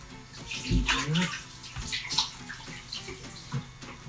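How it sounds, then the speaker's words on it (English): Running tap water splashing over hands being washed in a kitchen sink while making sausage rolls, a close, uneven rush of water with brief splashes and light hand rubbing throughout. "So just quickly wash my hands again."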